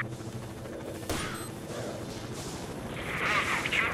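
A sniper's shot in STALKER: Shadow of Chernobyl: a single sharp crack followed by a rumbling echo, set against a dense, noisy game backdrop that swells toward the end.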